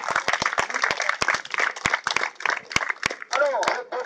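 Scattered clapping from a small group honouring young participants at a Woodcraft scouting event, sharp uneven hand claps under a continuous voice.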